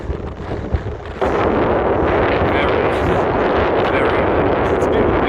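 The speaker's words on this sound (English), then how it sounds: "It's a bit windy today" Strong wind buffeting a microphone in a steady loud roar that starts abruptly after a quieter moment, at an outdoor cycling velodrome complex.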